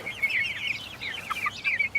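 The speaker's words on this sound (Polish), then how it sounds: "Kogut." A young rooster clucks repeatedly in short, throaty bursts, fairly close and alone, with quiet background.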